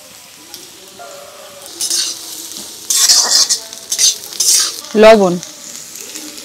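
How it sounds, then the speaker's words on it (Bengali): Capsicum and cabbage for chow mein are stir-fried in a metal pan, with bursts of sizzling and scraping spatula strokes and a metallic clang, under a few brief spoken words. "সবজিগুলোকে সব ভেজে নিয়েছি, আর সবজির কালারটা ঠিক রেখে সবজিগুলোকে একদম হালকা করে ভাজতে হবে।"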